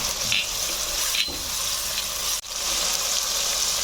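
Chopped garlic, ginger and green chilli sizzle loudly in a frying pan for a prawn chop recipe, a dense continuous hiss close to the ear, briefly dipping once as ingredients are stirred, with no talking.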